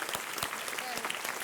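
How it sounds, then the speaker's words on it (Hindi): Studio audience applause on a Hindi TV quiz show set, a steady dense clapping that fills the whole short stretch at moderate loudness. "तालियों के साथ इनका स्वागत और अभिनंदन।"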